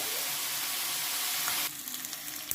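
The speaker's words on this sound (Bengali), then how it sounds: "এরপরে দিয়ে দেবো ক্যাপসিকাম কুচি আর পেঁয়াজ কুচি তিন মিনিট ভেজে নেব" Chopped capsicum and onion frying in a pan for paneer chilli, a steady broadband sizzle that holds loud and even, then drops abruptly to a softer crackle with a few faint clicks near the end.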